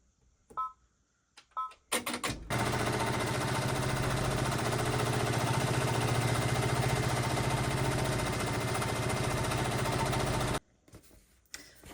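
An embroidery machine stitches a quilted baby bib, starting after a few short beeps and clicks into a loud, rapid, steady mechanical rattling drone that runs for about eight seconds and then stops abruptly.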